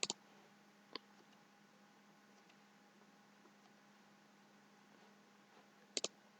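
A computer mouse clicking a login button, a few sharp, close clicks spaced seconds apart over a quiet electrical hum.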